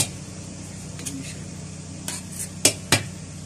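Kabuli pulao rice being mixed in a pot produces a few sharp metallic clinks and scrapes of a spoon against the pot over a low steady hum, with a voice faintly present.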